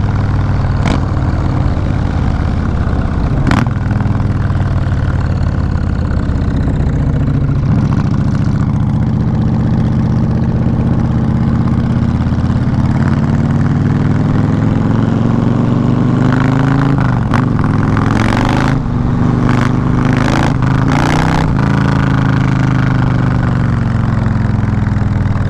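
Two Yamaha Warrior 1700 motorcycles rumble steadily at idle with a loud, deep low-end throb, then blip into sharp rev bursts in the later half, riding together on an open road.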